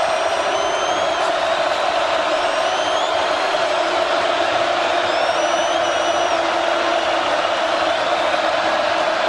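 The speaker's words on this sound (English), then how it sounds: "This crowd comes to life again." A college football stadium crowd roars on third down during Oregon versus California, a loud sustained wall of cheering and yelling with occasional whistles, continuous with no breaks.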